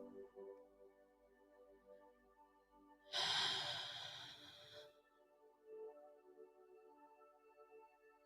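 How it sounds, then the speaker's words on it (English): One deep breath, a long rushing inhale or exhale lasting under two seconds, close and quiet, set against a soft sustained musical drone before and after. "Deep inhales and exhales."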